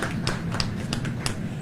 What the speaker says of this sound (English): And so give yourselves a round of applause again.